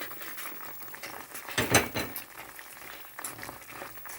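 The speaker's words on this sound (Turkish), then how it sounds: "Yavaşça çileklerimizi ezmeden bir güzel karıştıralım" Strawberries and sugar are stirred in a pot on the stove for cardamom strawberry jam, giving soft scraping and clinking of a spoon against the pot, with one louder clatter in the middle and quieter stirring around it.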